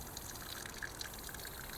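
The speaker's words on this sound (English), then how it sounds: "Talk about atmospheric, and here it's pouring into a barrel." Rainwater runs off a church roof in a wet Suffolk churchyard and falls into a barrel, making a faint, steady trickling gush with light scattered splashes and drips, and no voices.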